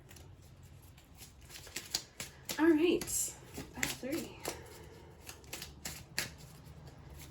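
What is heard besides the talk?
tarot cards being shuffled back into the deck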